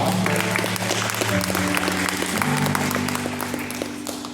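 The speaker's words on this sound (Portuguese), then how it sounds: "Vocês estão batendo palma igual para candidato a deputado estadual, federal" A church congregation applauds after a sermon: dense, continuous clapping from many hands fills the room at a steady, loud level, with tonal music sounding underneath throughout.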